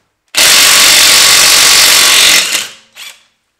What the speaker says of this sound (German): nehmen uns dann mal unseren Schlagschrauber